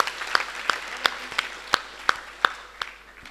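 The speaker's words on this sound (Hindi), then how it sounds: "एक बार मैं चाहता हूं सभी कवि मित्र इनके लिए तालियां बजा दें" An audience claps at a Hindi poetry gathering (kavi sammelan), with sparse, evenly spaced sharp claps standing out over a softer spread of applause for about three seconds.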